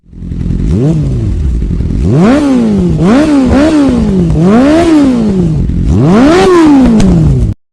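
A Hero Xtreme 160R 4V 2024 motorcycle engine is revved hard and repeatedly nearby, with loud rising and falling throttle blips over a steady idle before cutting off.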